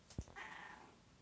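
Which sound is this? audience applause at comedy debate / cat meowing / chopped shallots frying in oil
cat meowing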